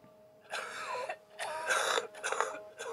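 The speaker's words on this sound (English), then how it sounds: "That's a bad cough" Several rough, raspy coughs in short bursts, a few spaced hacks with wheezy texture, fairly close against a quiet background.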